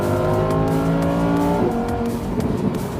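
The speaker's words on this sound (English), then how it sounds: "then you hear the gurgle on the exhaust, and you're flying, you're cruising" A manual car downshifts with the engine note dropping mid-way, followed by a burbling exhaust gurgle, loud and close, with no voices.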